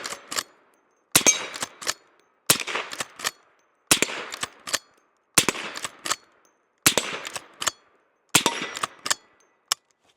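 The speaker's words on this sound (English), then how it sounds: "let's go ahead and take a few shots with it" A Smith and Wesson 1854 Stealth Hunter lever-action rifle works through a steady series of loud, sharp cracks in regular bursts, each burst a shot followed by quick metallic clacks, spaced about a second and a half apart.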